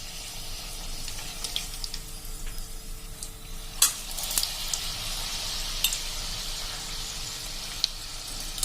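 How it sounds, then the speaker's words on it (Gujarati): Chorafali, a Gujarati fried snack, sizzles in hot oil over a full gas flame, a steady close crackle with occasional sharper pops and spatters. "ફૂલ ગેસ ઉપર જ આપણે તળવાની છે"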